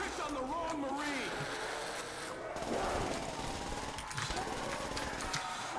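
An SMG with a drum magazine fires in bursts during a Call of Duty: World at War zombies match on the Verruckt map, rattling amid game music and effects while someone talks over it.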